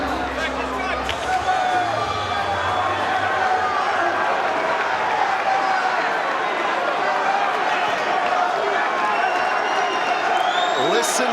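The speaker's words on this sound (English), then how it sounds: "Listen to the crowd here tonight." A packed London arena crowd at a BAMMA mixed martial arts bout roars, cheers and claps continuously, a dense sustained wall of noise with a commentator talking over it.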